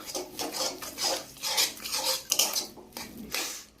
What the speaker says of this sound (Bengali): আমি এখন ভালো করে একটু নেড়ে চেড়ে দেবো।